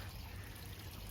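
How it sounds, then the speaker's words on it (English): A small backyard bird bath fountain trickles water in a steady, unbroken wash, close and continuous, with no speech. "we added a little bird bath fountain. So you got a little fountain right here going down."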